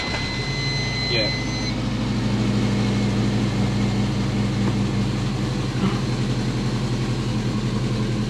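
A Subaru converted from automatic to a six-speed manual idles with a steady low engine rumble, close and loud, as it is put into gear; voices talk over the running engine.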